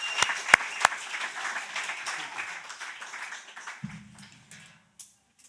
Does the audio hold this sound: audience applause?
yes